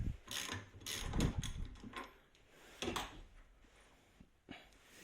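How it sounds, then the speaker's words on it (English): A wrench loosening the nut on the pulley of a Bosch VE injection pump from a 200TDI Defender, with a run of close metallic ratcheting clicks and knocks, denser early on and then a few scattered taps. "So what we can now do is we can undo this nut"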